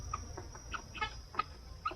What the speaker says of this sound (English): we have a chicken tractor that has 9 chickens